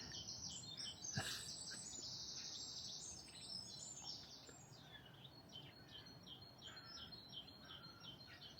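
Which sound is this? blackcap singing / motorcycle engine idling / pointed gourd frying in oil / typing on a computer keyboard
blackcap singing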